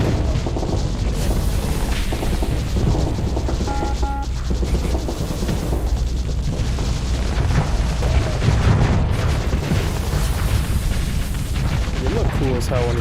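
Dense space combat in Starsector, missiles launching and exploding amid continuous booming and rumbling gunfire, loud and chaotic throughout with bursts and thuds piling over one another.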